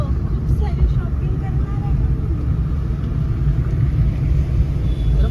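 Steady low engine rumble from inside a car as it pulls over to the roadside on a Mumbai street near Azad Maidan, with people talking over the drone throughout.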